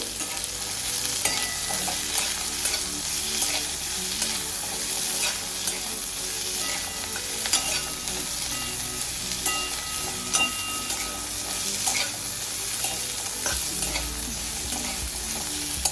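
Chopped onion fries gently in a pan over a low gas flame, giving a soft, steady sizzle with occasional light stirring clicks.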